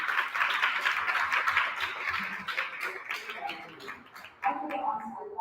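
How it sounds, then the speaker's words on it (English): Moderately quiet audience applause at a tech conference, a spread of clapping from the crowd that thins out, then a voice begins speaking near the end. "please give her a round of applause"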